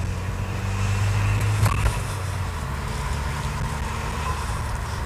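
A Ford Fiesta ST180 driving at steady speed, a continuous low engine and road-tyre rumble from inside the cabin, with a brief tonal hum partway through.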